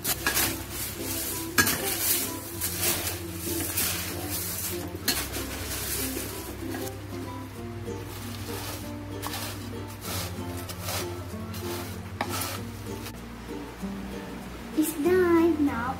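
Cornflakes are stirred through a bubbling salted egg mixture in a pan, producing steady metallic scraping and clinking of a utensil against the pan with a faint sizzle underneath, running continuously at close range.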